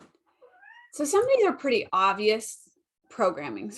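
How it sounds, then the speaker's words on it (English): A cat gives a short, high meow close by, and a person starts talking right after it and keeps talking over the rest. "sorry, that was a cat."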